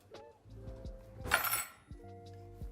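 A metal fork is picked up amid light clinks and taps of metal utensils against each other, a few close, quiet chinks with a brief scraping rattle in the middle.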